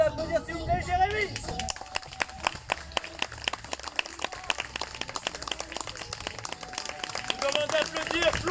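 An audience claps steadily for a circus performer at an outdoor show by the company P'art 2 rien in Saint-Paul-sur-Ternoise: a dense patter of hands with some crowd murmur, a voice briefly audible at the start.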